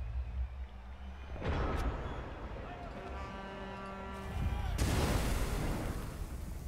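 A fireball spell explodes in the fantasy football video game Blood Bowl 2, a loud boom that swells and holds with rumbling blast noise under overlapping game effects.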